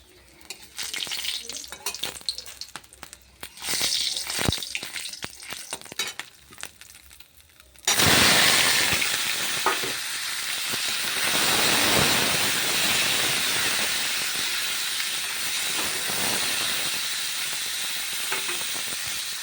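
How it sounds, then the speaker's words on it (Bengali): Long beans and potatoes drop into hot oil with a sudden loud burst of sizzling that settles into a steady, dense hiss of frying. Scattered stirring and clatter come first, then the frying runs on close and continuous with no voices. "এখানে তেলটা গরম হয়েছে বরবটি আলুটা ভেজে নিই তাড়াতাড়ি"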